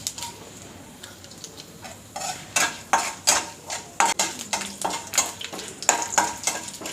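Mustard seeds, urad dal and broken dried red chilies sputter and crackle in a hot pan, with irregular sharp pops and clinks close by, growing busier after the first couple of seconds and heard alone.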